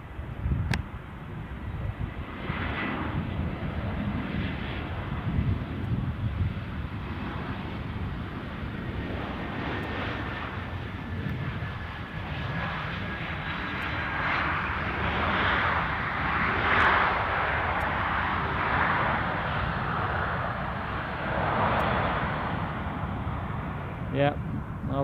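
A Ryanair airliner's jet engines roar at Edinburgh Airport on a foggy day, a broad steady rumble that swells and fades over the span while people chat over it.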